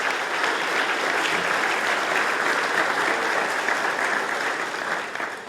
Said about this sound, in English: Please, a round of applause for all of our wonderful sponsors.